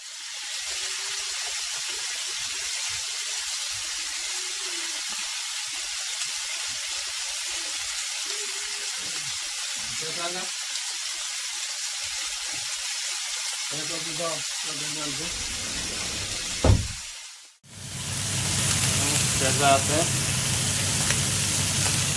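Steady broadband sizzle of lemon juice drizzled onto king prawns in a hot pan, with brief voices murmuring over it and a sharp sputter near the end, then a louder hiss.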